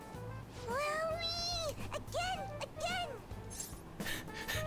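A stuffed toy cat from the game Persona 5 Royal lets out several high, gliding meows when its head is pressed, one after another, while people talk over and between them.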